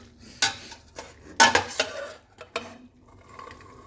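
A spatula scrapes and clatters in a pan while mixing spelt spaghetti with lotus sauce, several sharp metallic knocks and stirring scrapes in short bursts, close and fairly loud.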